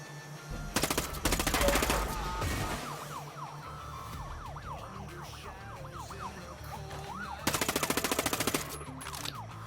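Two bursts of rapid automatic gunfire in Ghost Recon Breakpoint, close and rattling, separated by a stretch of wailing siren and background game noise.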